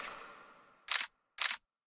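A camera shutter fires twice during a studio photo shoot: two crisp, close clicks about half a second apart, followed by silence.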